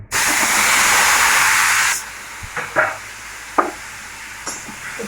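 Cauliflower pieces drop into hot oil in a pan after fried fish, setting off a loud, steady hiss for about two seconds that then settles into a quieter sizzle with a few soft clinks and spatters.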